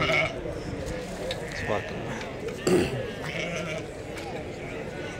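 Sheep bleat a few times at a busy outdoor livestock market in Azrou, Morocco, the calls mixed into steady crowd chatter and nearby talking.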